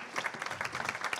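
Audience applause at a national council meeting of the Renaissance political party, a short burst of steady, dense clapping from the seated crowd, moderately loud and without talk.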